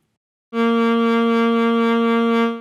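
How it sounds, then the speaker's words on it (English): A single sustained saxophone note, bright and rich, starting abruptly and holding steady for about two seconds before fading slightly. "your vibrato will sound something like this"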